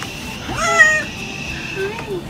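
A cat meows clearly once, a rising and falling cry, then a softer second meow, close by over low background noise, as it is being captured.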